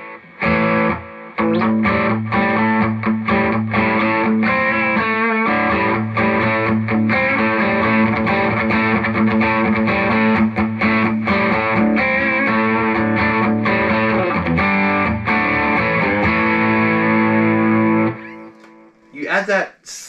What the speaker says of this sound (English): you could always add like a subtle delay